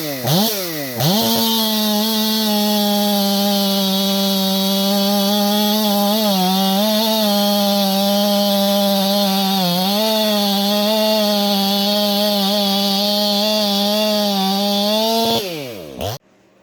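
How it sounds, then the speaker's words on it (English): A ported Stihl MS500i chainsaw cuts through big frozen cottonwood. The engine revs up sharply, then holds a loud, sustained high-pitched whine under load with slight bogs in pitch, and winds down at the end. "Now, here is a video of this saw cutting."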